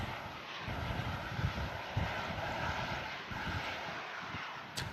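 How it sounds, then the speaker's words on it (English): TUI Boeing Dreamliner departing Manchester Airport in strong gusty wind, a continuous distant jet engine roar with buffeting wind rumble on the microphone. "Next out, TUI Dreamliner heading out to Montego Bay"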